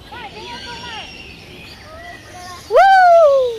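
Birds at Jurong Bird Park in Singapore call out, with a series of descending chirps and whistles followed by a loud, close, drawn-out falling call near the end.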